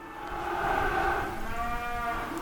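Cattle on a farm mooing after the cows were separated from their calves: long, loud, drawn-out lowing calls close by, with one call overlapping into the next and no talk.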